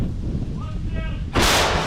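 After a low rumbling background, a self-propelled howitzer fires a single heavy blast, loud and close, its roar lingering to the end.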